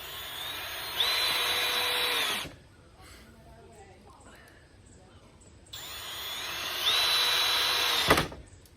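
A power drill drives used screws into a pallet gate in two loud, whining bursts of about a second and a half each, separated by quieter handling noise, with a sharp knock at the end.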